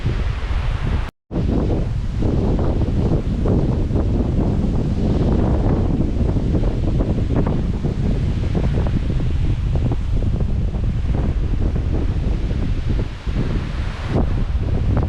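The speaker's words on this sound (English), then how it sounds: "it may be a little hard to hear today because it is so windy in this place" Strong, continuous wind across a lake roars and buffets the microphone on a trail, with a brief dropout near the start and rustling gusts throughout, loud and close.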